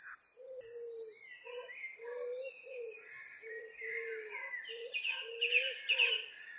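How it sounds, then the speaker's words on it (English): Birds sing around a military camp, with repeated low cooing notes and scattered high chirps and tweets running steadily at moderate loudness. "And the birds are singing."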